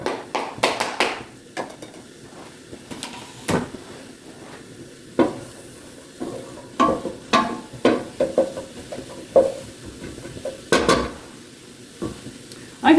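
Mushrooms cooking in a pan for turkey stroganoff, with repeated scraping and clattering strokes of a utensil stirring against the pan over a faint sizzle, close and irregular throughout.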